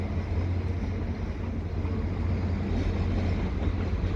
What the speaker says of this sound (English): This is the Renaissance train coming into Montreal.